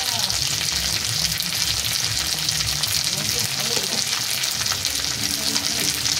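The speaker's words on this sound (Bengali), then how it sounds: "দিয়ে সুন্দর করে নাড়াচাড়া করে নেব। দিয়ে দেবো হলুদ গুঁড়ো" Turmeric, ginger paste and spices fry in a pan with a loud, dense, unbroken sizzle, while a spatula stirs through them close up.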